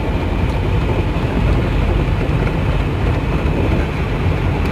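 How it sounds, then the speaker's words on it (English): A 525 horsepower engine idles under a closed bonnet, giving a loud, steady, muffled rumble that holds constant throughout with no voices. "525 horsepower engine that's sitting out here right now at idle"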